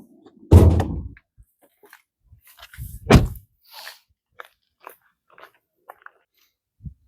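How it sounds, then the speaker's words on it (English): A Volkswagen Taigun 1.0 TSI has its hood released and popped open: a sharp thunk of the latch, then a second louder clunk as the bonnet lifts, followed by faint small clicks. "Let's pop the hood of the car."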